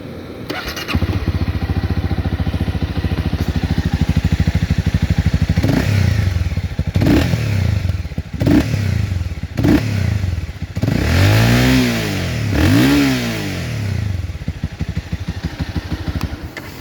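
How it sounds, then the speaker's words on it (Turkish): A Honda CB 250R motorcycle with 57,000 km cranks over a few times with thumping bursts, then catches and settles into a steady, loud idle with a couple of revs. "Motosikletin de çalışması sesi bu şekildedir arkadaşlarım."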